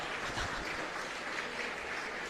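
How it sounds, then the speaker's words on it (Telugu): Thin, scattered applause from an audience at a speech, a few hands clapping faintly and steadily for a couple of seconds. "చాలా తక్కువగా చప్పట్లు మోగుతాయి నాకు తెలుసు."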